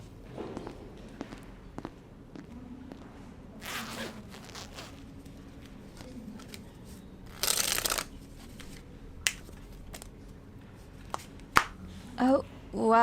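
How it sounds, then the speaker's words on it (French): A tarot-style deck gets shuffled in soft, riffling bursts, followed by a louder burst and a few sharp snaps as a card of the day is drawn, close and quiet, amid light rustling. "j'ai pas encore tiré ma carte du jour"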